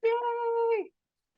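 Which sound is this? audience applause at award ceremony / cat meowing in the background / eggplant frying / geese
cat meowing in the background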